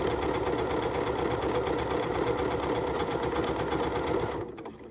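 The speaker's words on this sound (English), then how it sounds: "the machine's gonna stop when it's done. And it's gonna create this beautiful buttonhole." A Janome MC9450 sewing machine stitches a buttonhole with a fast, even mechanical whirr close by, then halts abruptly just before the end.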